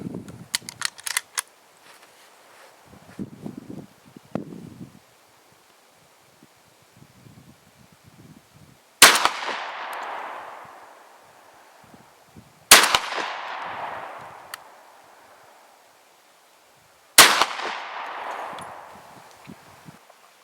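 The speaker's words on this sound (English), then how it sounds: "And there's 3 shots from the sitting position at 50 yards." Three sharp, loud shotgun blasts from a Remington 1100 with a rifled barrel firing Lyman sabot slugs outdoors, spaced several seconds apart, each followed by a rolling echo, with faint rustling and handling noise before them.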